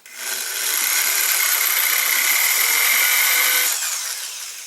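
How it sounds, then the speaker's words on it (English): A power drill drilling out a stripped screw on an airsoft gun whines at a high steady pitch for a few seconds, then spins down, loud and close. "I'm just going to drill this out real quick"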